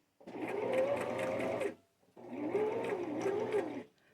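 A sewing machine stitches along the existing hem of a scarf-and-ribbon garment in two steady bursts of whirring, each about a second and a half long, close and fairly quiet, with a short pause between them.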